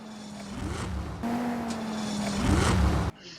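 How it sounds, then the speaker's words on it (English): The Truffade Thrax supercar engine in a video game hums and rises in pitch as it revs, building louder before cutting off abruptly. "Listen to the sound the engine makes."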